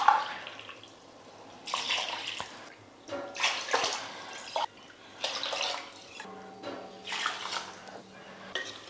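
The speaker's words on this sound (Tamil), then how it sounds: "இப்போ 4 ஆழாக்கு தண்ணி சேர்த்துக்கலாம்." Water is poured in several bursts over rice and potatoes in a pressure cooker for potato biryani, splashing and trickling up close with brief metallic clinks between pours.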